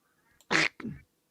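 Ducks chased by a cat, giving two close, loud quacks in quick succession, a sharp harsh call followed by a lower, shorter one.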